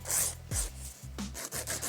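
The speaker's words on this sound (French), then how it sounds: "Là, on lime droit." A nail file rasps across a fingernail during a gel refill, a series of short close strokes with brief pauses between them, heard alone without talk.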